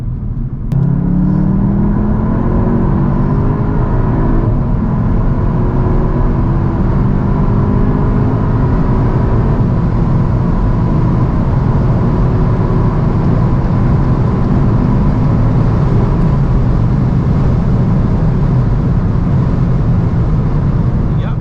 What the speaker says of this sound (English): Let's now see how fast the CUPRA 300 goes, 100 to 200 from a rolling start.